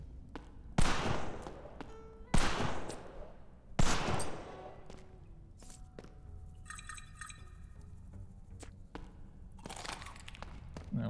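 Shotgun blasts in the video game Slasher's Keep, three loud, sharp reports spaced about a second and a half apart, followed by quieter game effects and chiming.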